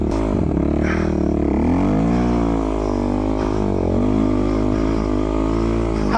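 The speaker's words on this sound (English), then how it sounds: "So my quad's working pretty hard" A Suzuki LT-R450 desert racing quad on Maxxis RAZR snow tires labors through deep snow, its engine droning loud and steady with small dips and surges in pitch throughout.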